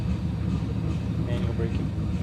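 Airliner thrust reversers roar on landing in a flight simulator game, on a Port Moresby to Cairns flight: a loud, steady, broadband low rumble that holds throughout without easing.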